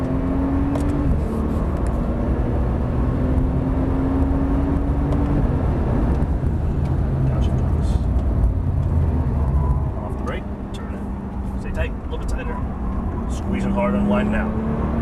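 A Porsche 911 Turbo engine pulling hard out of a corner on track, a sustained loud drone with the pitch climbing in stretches, heard from inside the car under a driving coach's steady talk.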